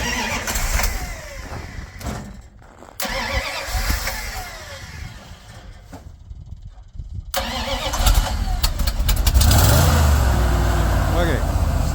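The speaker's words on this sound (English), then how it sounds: "Dad is just going to fire it up here" A 1967 Bombardier snowmobile engine cranks and struggles through several stuttering attempts before catching and running steadily and loudly at the end, with people talking nearby.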